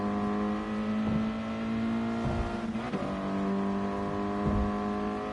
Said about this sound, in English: Sounded like someone were rubbing the rails next to me.